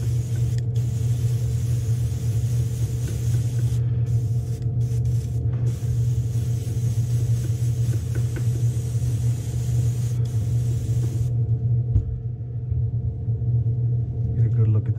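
A heat gun blows continuously with a steady whooshing hum and low drone while heat-setting Createx candy paint on a fishing lure, close and constant, briefly broken by faint clicks and dropping out near the end.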